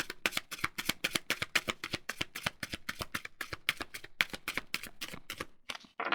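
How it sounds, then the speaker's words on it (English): A tarot card deck is riffled and shuffled in a rapid run of crisp, even flutters, close and fairly loud, ending with a brief pause and a final rustle. "This is the last shuffle I'm going to be doing."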